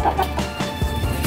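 A Texas chicken clucks up close in a series of short, throaty calls over a faint background hum.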